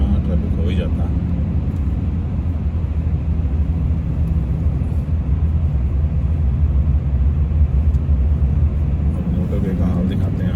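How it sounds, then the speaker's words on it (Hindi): Jammed Friday motorway traffic heard from inside a crawling car, a steady low rumble of engines and road noise that stays even throughout, with faint voices underneath. "फ्राइडे को हमेशा ट्रैफिक हो ही जाता है।"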